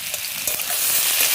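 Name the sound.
frying ridge gourd in a pan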